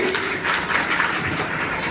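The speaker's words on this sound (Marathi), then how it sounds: "जोरदार टाळ्या झाल्या त्यांच्यासाठी" A crowd claps for the funny-face contest winners at a children's birthday party magic show, a dense, steady patter of applause lasting throughout.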